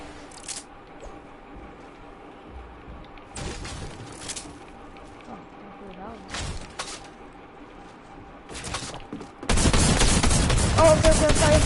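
Bursts of gunfire in a video game shooter come in short volleys spread over several seconds, with quiet gaps between them. A loud, sustained burst of noise fills the end.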